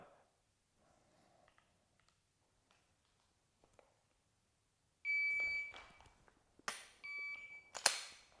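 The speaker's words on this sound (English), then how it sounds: "And you see the 2 second par time beeped." A shot timer sounds a sharp electronic beep marking a 2-second par time during a dry-fire pistol drill, loud and close, followed by clicks and further beeps in short bursts after a long stretch of near silence.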